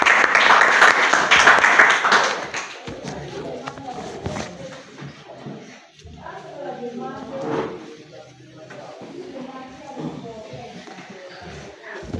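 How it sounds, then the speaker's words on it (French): Congregation applauding for the Lord Jesus at a church gathering in Bafoussam: a loud burst of hand clapping for about two seconds, fading into shuffling and scattered claps with voices talking underneath. "Acclamons pour le Seigneur Jésus"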